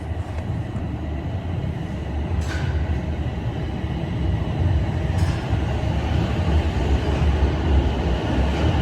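A TTC subway train creeps slowly through Highway 407 Station, giving a steady, fairly loud low rumble that swells slightly as it continues, with a couple of faint metallic clinks.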